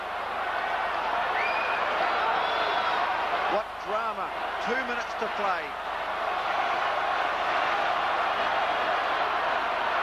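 Huge crowd at the 1998 Hong Kong Sevens rugby final between Fiji and Samoa, a continuous loud roar of cheering filling the stadium under an excited commentator's voice.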